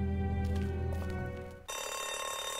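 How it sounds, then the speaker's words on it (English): An alarm rings in The Walking Dead video game as a loud, continuous electronic bell-like ringing that shifts to a harsher, brighter tone partway through, with no talk over it. "Oh, the alarm. We gotta hurry."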